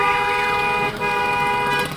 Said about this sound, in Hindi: हॉर्न दो ट्रक बस वालों की तरह